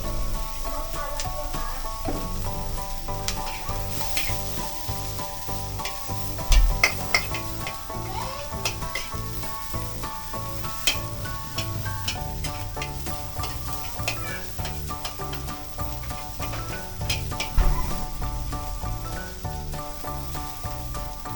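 Garlic fries in a pan while it is stirred, a steady crackling sizzle with repeated scraping strokes and occasional sharper clinks, fairly close and without talking.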